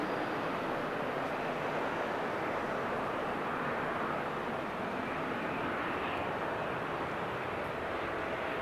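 Airliner at Amsterdam Schiphol Airport produces a steady, broad engine roar that holds evenly throughout, loud and unbroken with no speech.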